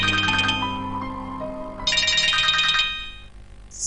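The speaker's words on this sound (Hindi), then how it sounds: "सारा का फोन इस वक्त" A phone ringtone plays as a bright electronic melody in two separate bursts with a short gap between them. It is close and clear, and no one speaks over it.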